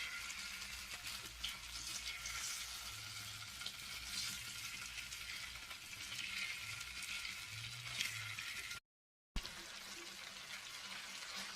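Paneer pieces deep frying one by one in hot oil give a steady, continuous bubbling sizzle at close range, fairly quiet and even throughout, with a brief cut to silence near the end.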